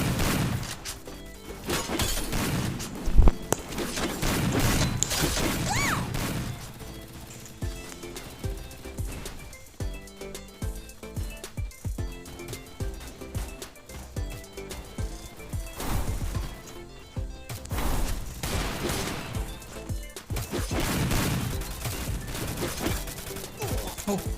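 Gunfire in the mobile shooter Free Fire, with repeated bursts and volleys of shots scattered through a busy, loud game mix, some shots sharp and close, others blending into the steady background of action.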